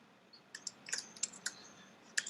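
Light keystrokes on a computer keyboard, a handful of quiet clicks arriving in small uneven bursts against a faint background hiss.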